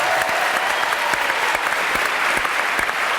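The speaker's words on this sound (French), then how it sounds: "mesdames, messieurs, quelques applaudissements." Studio audience applause during a French television variety show card trick, steady dense clapping filling the whole moment with no talk over it.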